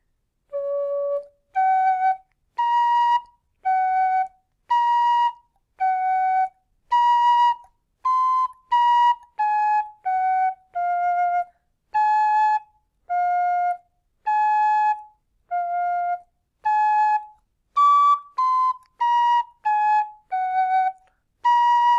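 A solo Chris Wall Sweetbrass D tin whistle plays the Irish trad tune Rakes of Mallow, with clear, bright detached notes in a lively bouncing rhythm, close and alone.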